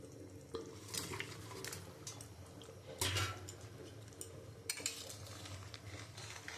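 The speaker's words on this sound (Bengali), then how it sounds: "এবার আমি মাছগুলো দিয়ে দেবো" Rohu fish pieces go into a boiling papaya and potato curry with a burst of close sizzling, clatter and stirring scrapes, then the pot keeps bubbling and crackling underneath.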